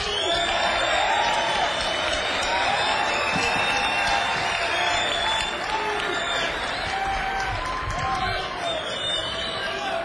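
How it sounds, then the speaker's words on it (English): Large outdoor blues festival crowd at an evening show at the Petrillo Music Shell in Chicago, clapping and cheering loudly and steadily throughout, with whoops rising above a dense wash of applause. "Would y'all clap your hands for them too"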